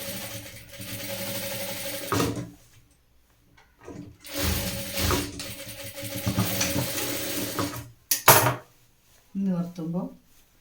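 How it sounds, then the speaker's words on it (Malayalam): A sewing machine stitching fabric lining for the back piece of a midi top runs in several short mechanical bursts separated by quiet pauses, close and clear. "ഇത് വെച്ചിട്ട് സ്റ്റിച്ച് ചെയ്യാം."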